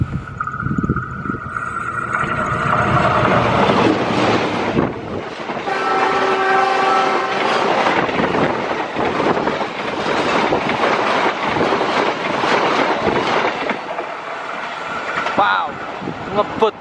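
Ranggajati passenger train from Jember bound for Cirebon passing at speed, a loud horn blast followed by the close roar and rhythmic clatter of wagons rushing by, fading toward the end.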